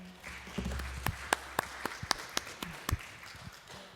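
Audience applause and clapping at a 2020 youth leadership mayoral forum, a scattered run of sharp individual claps over a low murmur of room noise, fairly close and moderately loud.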